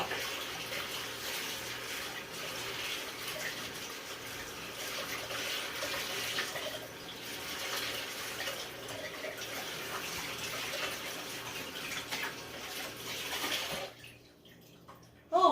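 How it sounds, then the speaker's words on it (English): Cold water runs steadily from a kitchen faucet while hands are washed, a continuous close rushing hiss that lasts about fourteen seconds before the tap is shut off, with no talking. "Turn on the faucet. Clean my hands off."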